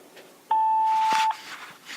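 An answering machine's single steady electronic beep sounds before a voicemail message; the clear, even tone lasts under a second and then cuts off, leaving quiet room noise.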